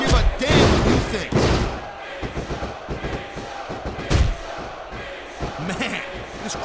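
An arena crowd in the SmackDown vs Raw 2006 wrestling video game roars and jeers, with heavy slams and thuds from the ring punctuating the noise, while commentators talk over it.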